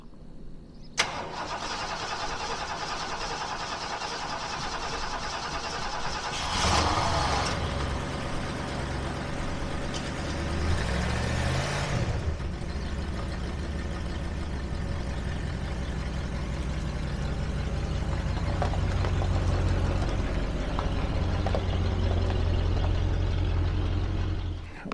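A Mercury car engine cranks and starts in a workshop, catching after a few seconds of cranking and revving before settling into a steady, fairly loud idle that continues to the end.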